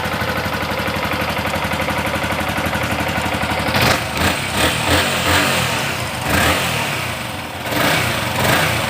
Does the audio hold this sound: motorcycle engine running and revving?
yes